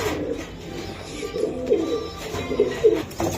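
Kashmiri and blue pigeons coo softly in repeated low, throaty phrases, several overlapping calls in a close, fairly quiet setting.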